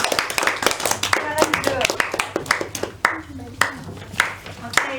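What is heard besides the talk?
students clapping in class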